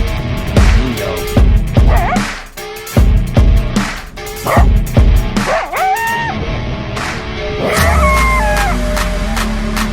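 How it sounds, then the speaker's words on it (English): A dog barks loudly and repeatedly at close range, with sharp yips and a few whining, rising yelps between barks. "Mean dog."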